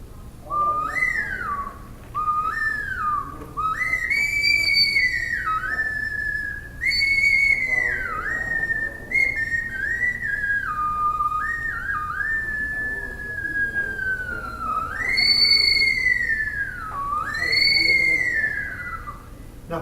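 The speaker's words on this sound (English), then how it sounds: "Now that doesn't sound like much, it's just a whistle, right?" A shrill whistle blown repeatedly in sliding, warbling phrases, rising and falling in pitch, loud and close with short pauses between bursts.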